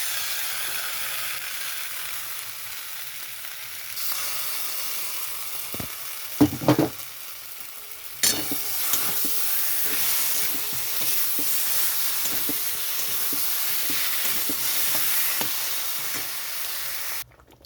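Ground spice paste frying and being stirred in a pan for a new-potato aloo dum curry: a continuous loud hiss and sizzle with occasional clinks and scrapes of a spoon, a sharper burst as more is added partway through, no talk.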